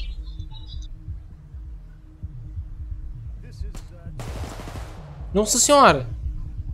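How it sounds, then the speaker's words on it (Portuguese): Two gunshots ring out in the bank-heist video game Payday 2, sharp bursts arriving close together near the end amid low game hum, with a player's startled voice exclaiming over them. "Que tiroteio foi esse? Dois tiros, cara."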